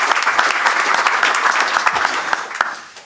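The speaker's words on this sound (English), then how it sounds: "I'd also say let's give Wood a hearty round of applause." Audience at a university press conference on joining the Sun Belt Conference applauding, a brief dense burst of clapping that holds steady and fades slightly at the end.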